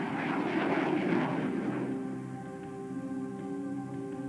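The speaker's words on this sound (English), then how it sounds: "Lieutenant Colonel Wilfred de Brouwer, ordered ground command to scramble a pair of F-16 fighter jets armed with missiles." F-16 fighter jets scrambling, a loud broad jet roar that swells and then fades, leaving a steady droning engine tone with a lower, thinner sound, heard alone without speech.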